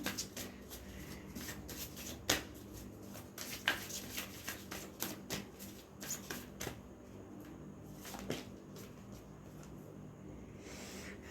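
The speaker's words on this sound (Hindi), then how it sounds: "चलिए मोनोलॉजी डेक से कार्ड लेते हैं" Cards drawn one by one from a Monology deck, heard as quiet, soft slides, rubs and light taps scattered over a low background hum, with no talk.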